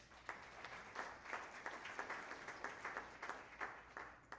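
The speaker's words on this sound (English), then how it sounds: "Let's give another round of applause." Conference audience at an annual higher-education conference opening ceremony applauding, moderately loud and sustained, with individual claps popping out in an uneven rhythm throughout.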